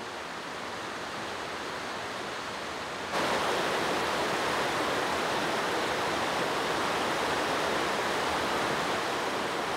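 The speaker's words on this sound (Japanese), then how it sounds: "せせらぎの音が爽やか。" A continuous rushing of a flowing mountain stream in Kyoto, steady and close, grows noticeably louder partway through and stays full and even.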